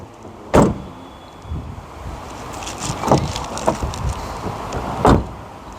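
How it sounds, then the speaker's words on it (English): Three solid car door thumps from a Mercedes ML320 SUV land a couple of seconds apart, each short and close, over a low background hiss. "Door shut sounds."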